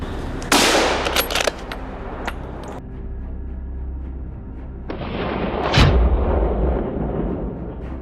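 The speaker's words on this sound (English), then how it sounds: "From time to time, gunshots cracked through the forest, a clear signal that someone in the group had just made another hit." Gunshots ring out in a forest during a wild boar hunt, with several sharp cracks and a dense burst of rapid fire early on, then a loud boom near the end over steady outdoor background noise.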